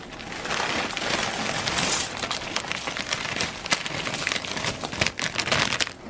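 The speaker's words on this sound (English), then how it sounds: "Sorry for the noise of the plastic." Plastic bag crinkling and rustling continuously while dried hibiscus petals are dumped into a pot of hot water, close and fairly loud, with sharper crackles near the end.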